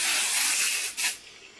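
Perfume sprayed from a bottle: a sustained close hiss of mist for about a second, then a second short burst, loud and near with no talk.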